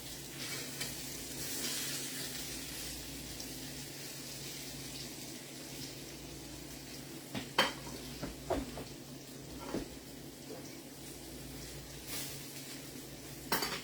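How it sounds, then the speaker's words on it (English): A soft, steady sizzle of meat searing in a pan runs throughout, with occasional clinks and scrapes of a utensil against cookware. "Y'all see that searing on there? That's what you want."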